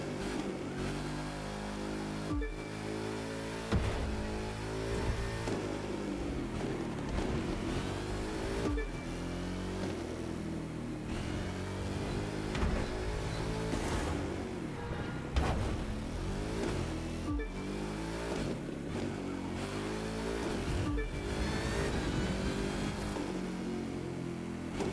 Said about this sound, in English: There, I can't get enough of that supercharger.